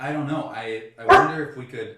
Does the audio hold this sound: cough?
no